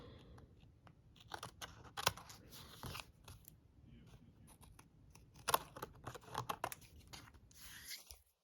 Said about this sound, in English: So then I can trim this piece and this piece, and I know it's perfectly centered.